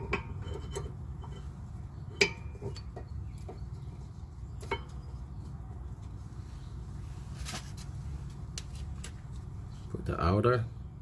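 Brake pads for a Nissan being handled and fitted into the caliper bracket during a brake job, with scattered light metallic clicks and taps, a brief clatter near the end.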